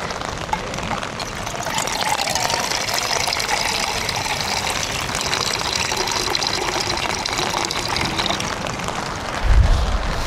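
Water runs continuously at a water source by the sea, a steady rushing gush with a faint low bump near the end.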